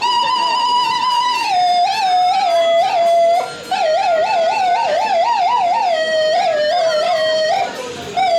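A voice imitates a wailing air siren, sliding up and down in pitch in long warbling sweeps, loud and close.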